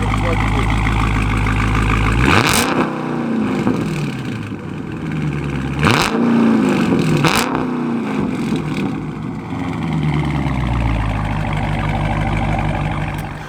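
A 2020 Dodge Charger Scat Pack Widebody with the mid bumper deleted, idling loudly close by, then revving hard in three sharp bursts that rise and fall back to a deep, rumbling idle.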